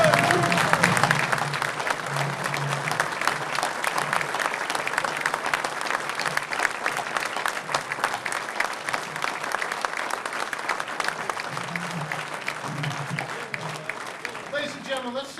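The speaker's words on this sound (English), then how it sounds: "a big round of applause for all the good guys" An audience claps at length in sustained, dense applause from a standing crowd at an event, loud at first and then holding steady, with a voice speaking faintly beneath it.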